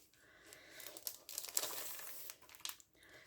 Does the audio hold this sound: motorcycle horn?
no